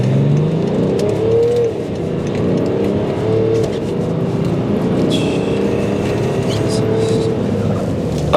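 A modified, tuned BMW X5 SUV pulls hard under acceleration, its engine droning and rising in pitch through the gears, heard from inside the cabin as a steady, loud sustained roar.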